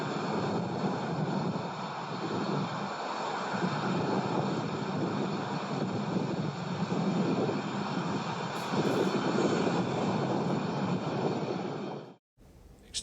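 An Avro RJ100 jet airliner landing, a loud, steady broadband roar of jet engines and rushing air that holds for about twelve seconds, then cuts off abruptly.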